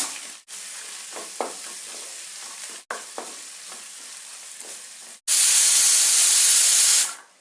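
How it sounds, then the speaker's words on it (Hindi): Steady sizzling and hissing from chopped onion frying in a pan over medium flame, with a few light stirring clinks, then a louder burst of sizzle near the end. "अब हम इसमें ये कटा हुआ प्याज डाल देंगे।"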